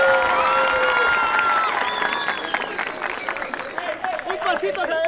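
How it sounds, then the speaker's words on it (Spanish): A crowd at a Halloween costume contest on a game show applauds and cheers a contestant, with excited shouts and whoops over clapping that fades somewhat before picking up again. "¡Aplauso para Chilis!"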